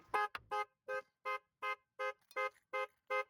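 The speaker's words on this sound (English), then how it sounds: "I hit my alarm button." A Ford F-150 car alarm beeps in a steady, evenly spaced series of about nine electronic tones, fairly faint and heard alone.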